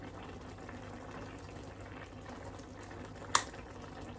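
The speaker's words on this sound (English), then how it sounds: "Let's add some extra virgin olive oil." Extra virgin olive oil pours into a pan as a steady, soft liquid hiss that runs for several seconds, broken once near the end by a single sharp click. No one speaks.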